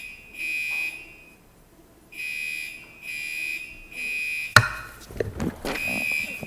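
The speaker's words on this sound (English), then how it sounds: "so we will temporarily adjourn for a fire alarm." Fire alarm sounding in repeated shrill electronic pulses, about a second on and off, moderately loud, then a sudden knock followed by scattered indoor clatter as the pulses continue.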